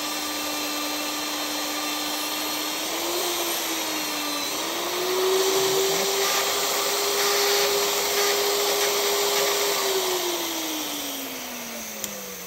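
A magnetic drill runs with a steady motorized whine that drones continuously, its pitch stepping up slightly partway through and easing down near the end, loud and close.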